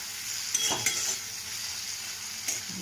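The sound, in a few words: tomatoes with salt cooking in a pan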